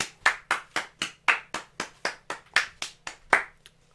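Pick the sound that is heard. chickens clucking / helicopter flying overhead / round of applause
round of applause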